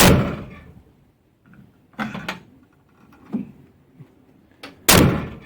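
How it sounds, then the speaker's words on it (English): Door locks on an XC Ford Falcon wagon being fitted clack and thud in a quiet garage: a few sharp mechanical clunks spaced seconds apart, the loudest near the end, with faint rattles between. "One door lock down, 3 to go."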